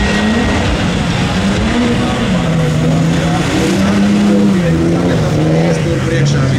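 Rally-style 4x4 cars snarl up a hill-climb drag course in Latvia, a sustained loud engine roar with shifting pitch throughout, mixed with a live commentator talking over it.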